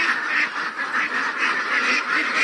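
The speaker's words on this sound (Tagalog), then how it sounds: "yung bagong lipat natin ng mga itik" A flock of ducks quacks steadily and loudly inside a freshly renovated duck house, the overlapping nasal calls pulsing in a dense, continuous chorus close by.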